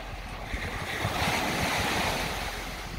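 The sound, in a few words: wind and surf by the sea at night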